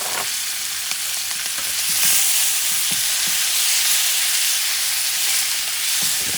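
Peppers sizzle loudly in a hot pan while cooking carne al fuego, a bright continuous frying hiss with faint crackles and a few soft stirring knocks, with no talking.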